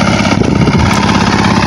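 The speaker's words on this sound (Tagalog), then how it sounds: "Maingay yung makina guys, kaya hindi tayo pwede lumapit masyado" A farm machine's engine runs loud and close, a steady droning rumble with constant vibration throughout, no voices over it.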